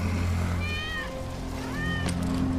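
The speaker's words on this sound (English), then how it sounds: "That's Wedge's cat" A cat in Final Fantasy VII Remake meows twice, drawn-out and plaintive, over a steady low background hum.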